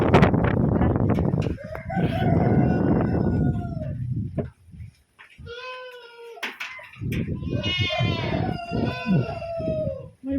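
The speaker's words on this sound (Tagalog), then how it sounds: "May manok." Chickens on a goat and sheep farm cluck loudly up close, with a rooster crowing twice between bursts of clucking.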